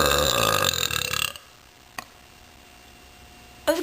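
A loud, long human burp rumbles for over a second, followed by near silence with a faint tick and a brief sharp noise at the end.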